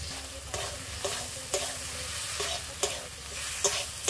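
Turmeric, mustard paste and tomato frying together in a pan, a soft continuous sizzle with regular scraping stirs about every half second, close and unaccompanied by talk.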